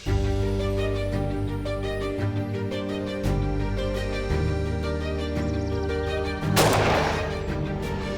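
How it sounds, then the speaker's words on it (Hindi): Background music plays steadily, then a single loud, sharp gunshot-like blast cuts through near the end. "चलो अब गोली चलाओ।"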